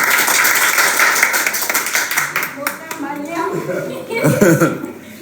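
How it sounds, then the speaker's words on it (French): A contest audience at a House of Challenge event claps and applauds in a dense, lively patter, with voices and light chatter mixed in through the middle and a louder burst near the end. "c'est très bon applaudissement pour ça"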